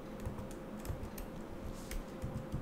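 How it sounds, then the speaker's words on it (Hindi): Fingers type on a MacBook Pro M1 laptop keyboard, giving soft, quiet, close key taps in a loose, uneven patter over a light background hiss, with no voices. "ये एक्चुअली इसका जो कीबोर्ड है ना उसके बारे में बात ही नहीं की मैंने, तो ये इसका थोड़ा सा आवाज आता है"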